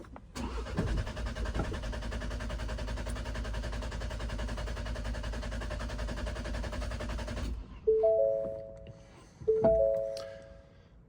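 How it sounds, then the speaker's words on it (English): A Ford Bronco Sasquatch 2.3L EcoBoost engine cranks steadily for several seconds without catching while priming the oil filter after an oil change, then stops; two short chiming beeps follow in the quiet. "start your engine, and it'll turn over without starting."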